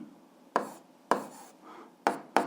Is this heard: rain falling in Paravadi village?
no